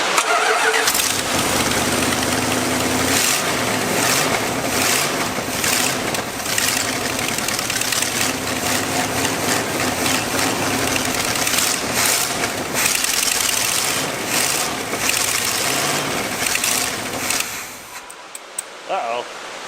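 A disassembled Dodge Ramcharger truck engine cranks and catches, then runs loud and rough with uneven revving close by before sputtering and dying away near the end.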